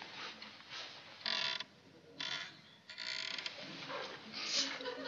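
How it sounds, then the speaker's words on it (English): A door creaks open indoors at night in a quiet house, several drawn-out mid-pitched groans and squeaks arriving in uneven bursts, moderately faint against a hushed background with no talking. "I think it was a door opening."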